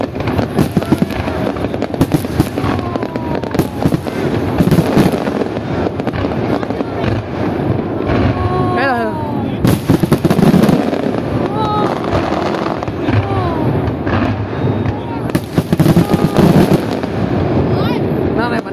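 Fireworks and firecrackers go off for Lunar New Year (Tết), loud dense crackling bursts and pops in rapid clusters, with whistling rockets rising, continuing throughout as voices talk and call out nearby.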